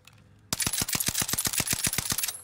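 Rapid automatic fire from a heavy-recoil sniper support weapon in the video game Warzone; a quiet moment gives way to a loud, evenly spaced string of about a dozen sharp, close shots.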